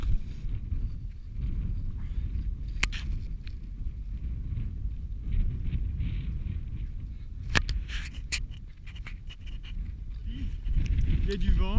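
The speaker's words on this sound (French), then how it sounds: "Il y a du vent" Steady gusty wind rumbles across the microphone the whole time during an ultramarathon trail race in New Zealand, low and blustery, with a few sharp clicks and knocks now and then.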